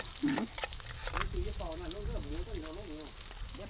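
Pork stir-fries in a pan at an outdoor rice-field cookout, a close, steady crackling sizzle running under a person talking.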